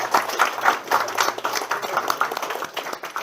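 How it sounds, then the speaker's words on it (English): An audience at a seminar for boomers and seniors claps in a lively, continuous round of applause, many hands patting at once, fairly close and uninterrupted. "Let's give them a round of applause."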